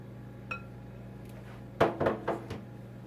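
Beaten eggs being stirred into a squash casserole in a bowl: a few clinks and scrapes of a utensil against the bowl, quiet and close, clustered in quick strokes over a low steady hum.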